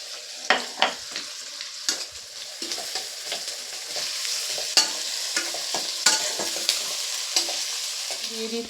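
Grated ginger and onions fry in a pan for a broccoli dish, a low sizzle punctuated by repeated sharp spatula scrapes and knocks, close and clear without speech.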